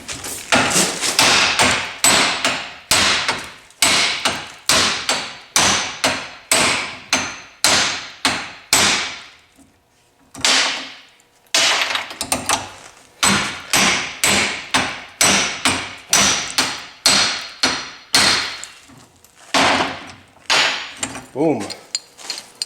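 A hammer pounds a Moog U-joint into place during a twin-turbo 5.2 Magnum build, a long run of loud, sharp metallic blows in quick rhythmic bursts, close up, with a few short pauses between sets.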